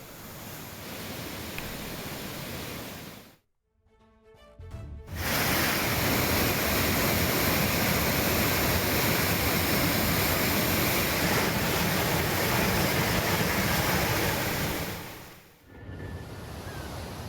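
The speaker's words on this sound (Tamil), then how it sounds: "கன்னியாகுமரி திருப்பரப்பு அருவியில் தண்ணீர் ஆர்ப்பரித்து கொட்டுகிறது." Water roars down the Thirparappu waterfall in Kanniyakumari as a loud, steady broadband rush that drops out briefly twice before resuming at full strength.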